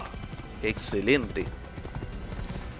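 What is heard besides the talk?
horse hooves clip-clopping in Assassin's Creed video game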